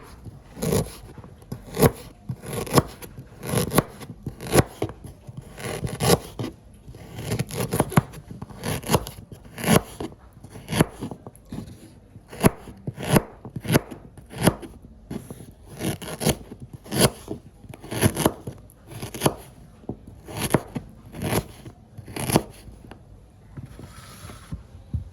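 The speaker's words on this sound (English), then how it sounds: "So we are just going to cut up our ginger." Ginger being chopped with a knife on a board for spiced plantain, a steady run of close, crisp cuts and taps repeating for about twenty-five seconds with no talking.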